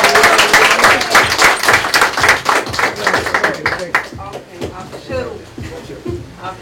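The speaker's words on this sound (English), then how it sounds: "Some round of applause." An audience gives a round of applause, with dense, close clapping and cheering that gradually thins and fades while voices talk over it.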